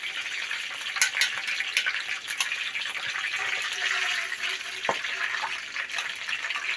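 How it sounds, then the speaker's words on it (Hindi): Eggs hit hot oil in a wok, producing a soft, crackling sizzle with scattered pops and spits, fairly quiet and continuous with no voices. "ऑयल गर्म हो गया है। सबसे पहले हम इसमें अंडे डालेंगे।"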